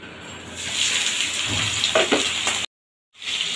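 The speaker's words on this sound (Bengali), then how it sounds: "দিয়ে ফুলকপিগুলোকেও আমি ভেজে নেব।" Cauliflower pieces fry in oil left over from frying potatoes, a steady close sizzle with a few stirring scrapes, broken by a brief silence before the sizzling resumes.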